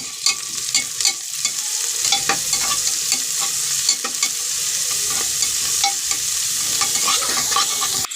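Non-vegetarian masala paste fries and sizzles in a pan during Odia jackfruit curry cooking, with steady close crackling and repeated scraping stirs of a spoon throughout, no voices.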